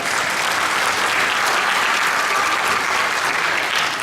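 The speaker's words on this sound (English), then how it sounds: "Let's put a round of applause for you guys." Loud, sustained applause and cheering from an audience at a comedy magic show, a dense even wash of clapping throughout with no talk.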